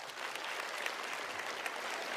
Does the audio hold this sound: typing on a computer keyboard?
no